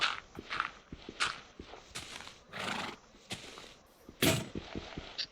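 A horse in the Minecraft video game neighs and snorts between repeated clip-clop hoof steps, with several whinny bursts over the steady game footsteps and no talk.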